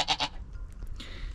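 A goat on a DIY milking stand lets out two quick, close bleats in succession, followed by quieter shuffling and rustling noises nearby.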